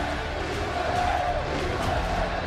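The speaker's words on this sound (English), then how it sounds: "That crowd is absolutely electric right now." A stadium crowd roars and cheers at an Overwatch World Cup 2017 qualifier match in Los Angeles, Brazil versus the United States, a dense sustained swell of many voices throughout.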